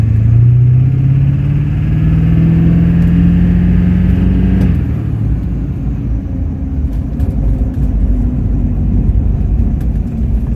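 A Duramax diesel truck engine drones loud and close while the driver accelerates hard, revs climbing steadily for about five seconds before dropping into a steady lower hum.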